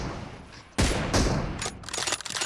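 Gunfire in the mobile shooter BGMI during a team deathmatch, a loud burst of shots followed by several more quick cracks in close succession, close and punchy.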